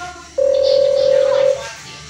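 A single loud, steady telephone tone sounds for about a second, then cuts off, leaving faint background noise.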